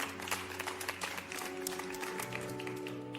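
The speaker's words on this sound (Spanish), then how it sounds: "Denle un fuerte aplauso a Dios, iglesia." A church congregation claps and cheers in a large hall, dense continuous applause with a sustained musical tone underneath.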